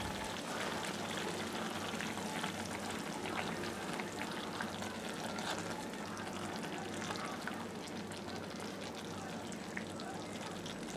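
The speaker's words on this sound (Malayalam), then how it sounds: "ഇപ്പോൾ ഈ കറി തിളച്ചു വന്ന് തുടങ്ങിയിട്ടുണ്ട്" Sardine curry with dried red chillies bubbles in a covered pot, a steady low simmering hiss and soft bubbling throughout, faint and continuous with no talk.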